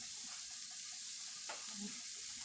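Steak sizzling in vegetable oil in a pan for a Philly cheese steak, a steady broadband frying hiss throughout with a brief stir or scrape midway, no talking.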